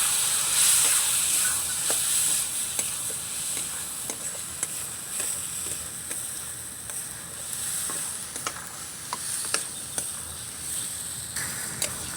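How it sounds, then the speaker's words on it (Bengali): Spice paste with Kashmiri chili powder and a little water sizzles and fries steadily in a pan for chicken kosha, with repeated spatula scrapes and stirring clicks throughout, close and fairly loud, no talking. "এবার দিয়ে দেব কাশ্মীরি লঙ্কার গুঁড়ো এক চামচ অল্প জল দিয়ে মশলাটা আমি কষিয়ে নিই"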